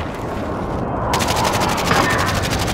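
Rapid gunfire from an online Call of Duty Warzone trios match, a dense, sustained rattle of shots over a steady game soundscape, loud and continuous with no pauses.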